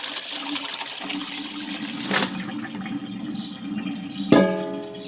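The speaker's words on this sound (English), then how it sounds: "So I'm going to strain the water off." Salt water being strained off soaked yucca blossoms, a continuous splashing pour with a few sharp knocks of the strainer or bowl, close and alone.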